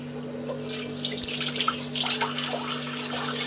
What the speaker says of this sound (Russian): После остывания моем казан горячей водой,